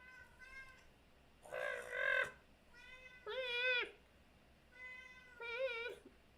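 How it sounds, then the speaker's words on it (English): A house cat meows repeatedly, three drawn-out, wavering calls spaced a second or so apart, fairly close and clear over a quiet background. "Oh no, the cat starts again."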